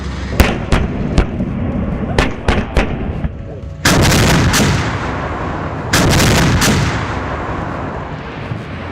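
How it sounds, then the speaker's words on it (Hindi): A K9 Vajra self-propelled howitzer test-fires shells at a desert firing range near Bikaner, Rajasthan, with sharp separate booms early on followed by two long, loud rumbling blasts. "इसके गरजते गोले मरुभूमि में मौजूद अपने टारगेट को कैसे ध्वस्त कर रहे हैं"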